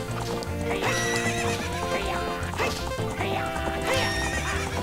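A horse gallops with steady clip-clop hoofbeats and neighs repeatedly in the Zelda Ocarina of Time video game, set against loud continuous game music during a horse race.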